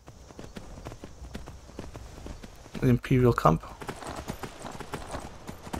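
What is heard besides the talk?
horse hooves galloping in video game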